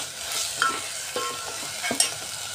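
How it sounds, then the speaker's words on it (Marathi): Onion-garlic masala sautéing in hot oil, stirred with a spoon, giving a soft steady sizzle with a few sharp scrapes and taps against the pan over a couple of seconds, close and fairly quiet. "तेलावर आपला मसाला छान असा परतवून झालेला आहे"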